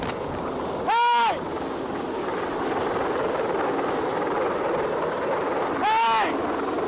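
A low-flying Chinese Navy helicopter fills the air with a steady, heavy roar of rotor wash and wind near Sandy Cay, broken twice by short, sharp shouts.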